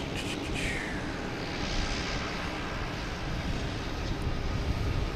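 A JetBlue Embraer E190 jet at Boston Logan Airport gives a continuous engine rumble with a brief rising whine near the start, steady and fairly close throughout.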